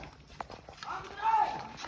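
Horse hooves clip-clop at a walking pace, a few soft, irregular knocks heard fairly far off beneath people talking.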